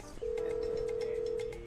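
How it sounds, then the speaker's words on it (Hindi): A phone call is placed and a single steady ringing tone sounds for a little over a second. Faint background noise sits beneath it. "अनिल को फोन करके दिखाता हूँ।"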